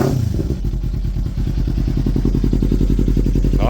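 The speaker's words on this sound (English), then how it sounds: "I'll give it a rev." A rebuilt 2024 Kawasaki Ninja 500 runs close up with a steady, throbbing engine note. It holds a fairly even pitch through the short burst, with light mechanical clatter mixed in and no clear rising rev.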